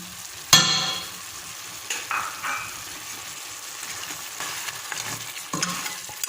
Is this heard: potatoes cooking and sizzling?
yes